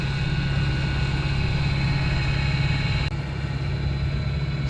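A sailboat motoring under engine power down toward South Manitou Island, its motor holding a steady low drone at constant loudness throughout, with no voices over it.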